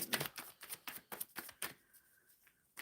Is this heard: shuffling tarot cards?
yes